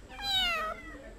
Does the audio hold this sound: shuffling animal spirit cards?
no